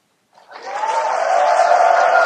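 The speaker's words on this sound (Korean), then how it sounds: "사랑하시는 만큼만 여러분 박수 소리로 표현을 한번 해보시면 좋겠습니다." Audience applause at a Catholic healing retreat, rising quickly from silence into steady, dense clapping that holds close and loud to the end.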